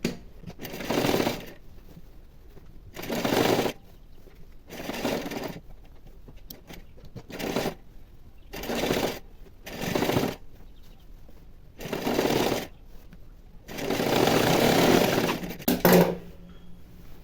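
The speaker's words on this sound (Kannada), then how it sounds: "ಒಂದು ಸ್ಟಿಚ್ ಹಾಕಿದ ನಂತರ ಇನ್ನೊಂದು ಡಬಲ್ ಸ್ಟಿಚ್ನ ಹಾಕ್ಕೋಬೇಕು" A sewing machine double-stitches a puff sleeve, running in about seven loud, close bursts of steady whirring separated by short pauses, with no voices.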